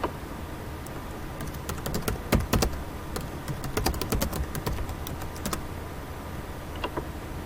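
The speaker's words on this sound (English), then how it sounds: "Much more intensified typing." Fast, intensified typing on a computer keyboard, a dense run of sharp close key clicks with bursts of louder strokes over a steady low background hum, no voices.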